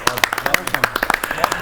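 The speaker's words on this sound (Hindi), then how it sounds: "एक बार फिर जोरदार तालियां।" An audience at a poetry recital claps, sharp distinct hand claps in a quick uneven rhythm, close and fairly loud, with a voice mixed in.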